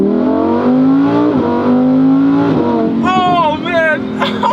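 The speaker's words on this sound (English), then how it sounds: "I'm literally screaming right now because this car makes so much noise." A Lamborghini Huracán Performante in Corsa mode, manual shifting, revs hard and loud with rising engine pitch, then barks through sharp upshifts and crackling exhaust pops, while a person shouts excitedly over it.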